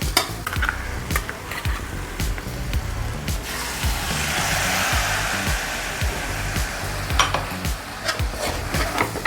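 A spatula scrapes and stirs chicken roast with roasted ground coconut in a hot pan in repeated strokes over a steady sizzle, close and fairly loud.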